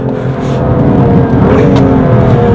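The engine of a BMW M2 Competition roars loudly up close as it accelerates hard on a race track during a warm-up lap. It is a dense, steady, rising drone with no voices.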